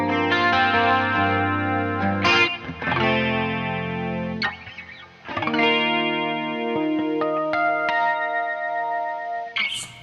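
Electric guitar, with gain from a drive pedal, runs through a Dimension chorus pedal placed after it, producing lush, wide sustained chords and single notes, loud and close, with no speech.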